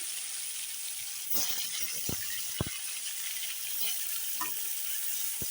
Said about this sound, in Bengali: এখন আলুগুলো আমি ভেজে নিচ্ছি